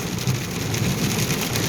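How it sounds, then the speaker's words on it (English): Rainwater hisses steadily under the wheels of a car driving along Route 66 on the West Mesa in a summer storm, a continuous loud wash with a faint rumble of thunder beneath. "can you hear the thunder and lightning or just the water under the wheels?"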